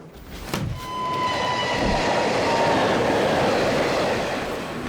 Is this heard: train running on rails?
yes